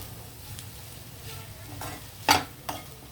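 A spoon stirs a capsicum and potato fry in a pan over soft background sizzling, with a couple of sharp scraping clatters near the end.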